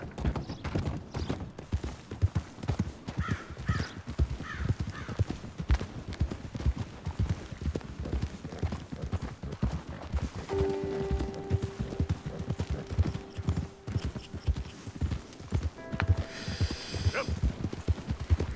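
Horse hooves clip-clop in a steady, continuous rhythm while riding in Red Dead Redemption 2, moderately loud throughout, with a few brief creaks and tonal game sounds layered in near the end.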